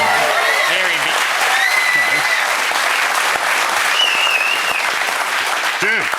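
A studio audience on a sports panel show breaks into sustained applause, dense clapping at full volume throughout while a voice and some whoops and chatter rise over it.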